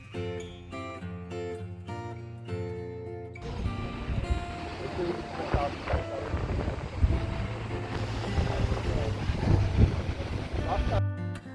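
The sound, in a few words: gusty wind and rain outdoors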